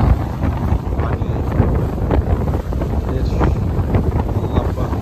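Strong wind buffets the microphone on the Atlantic Ocean shore at Sydney, Nova Scotia, a loud, unbroken roar with the surf mostly lost beneath it and no one speaking.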